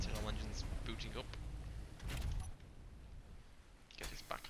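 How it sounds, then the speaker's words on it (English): In the video game Space Engineers, an aircraft's internal engines boot up with a loud, rumbling mechanical roar and several heavy bursts, while a person talks over it. "somehow that's the internal engines booting up"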